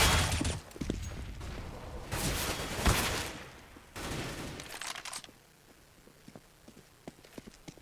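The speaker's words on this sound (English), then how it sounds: "And NKL leaped forward with the AK. Just spraying him straight away." AK rifle gunfire in the Counter-Strike game on the de_cache map, several bursts of rapid automatic fire close together in the first half, then quieter scattered in-game sounds.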